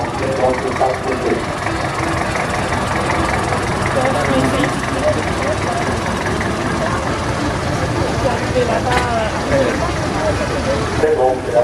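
A tractor engine idles with a steady low rumble during a harvest festival parade in Blodelsheim, Alsace, while an announcer talks over it.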